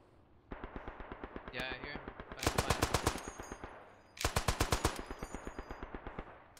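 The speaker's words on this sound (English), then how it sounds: "I have an MG shooting back." Heavy machine gun firing in the WWI shooter Beyond the Wire, German Empire side: long rapid bursts of evenly spaced shots, two louder sustained volleys among steadier fire, close and dominant.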